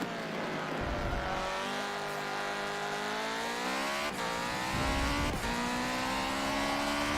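Race car engine in the Forza Motorsport 7 racing game, a loud sustained roar with rising revs and shifting pitch, gear changes marked by brief dips, steady throughout without talk.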